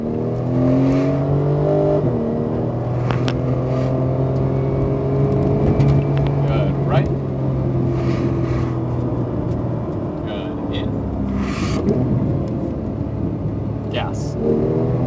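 A Porsche 911 GT3 engine revs hard on a racetrack, its steady rising and falling tone filling the cabin up close, with a person talking over it throughout.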